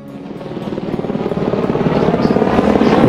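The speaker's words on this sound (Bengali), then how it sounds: "হেলিকপ্টার," Helicopter in the mountains on the walking route from Baltal to Amarnath, a steady rhythmic rotor thudding and engine whine that grows gradually louder over a few seconds, heard alone.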